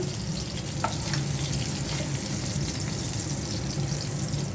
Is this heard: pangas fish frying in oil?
yes